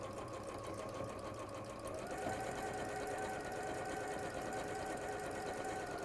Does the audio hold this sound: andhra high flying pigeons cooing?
no